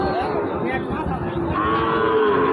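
Cattle moo loudly and repeatedly at a cattle market, over a steady murmur of livestock and background noise, with long drawn-out lowing calls close by.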